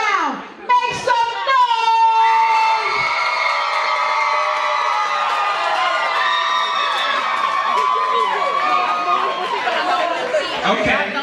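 A crowd at a Las Vegas poetry versus hip-hop battle erupts into loud cheering, whooping and shouting for Team Hip Hop, a sustained roar that fades slightly near the end.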